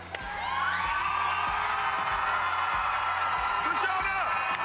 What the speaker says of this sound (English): Cue applause, Bobby.